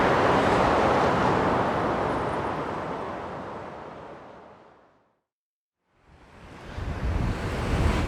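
Heavy wind by Tokyo Bay at Tatsumi Wharf roars and buffets a nearby microphone, fades to near silence for a moment, then gusts back in strongly.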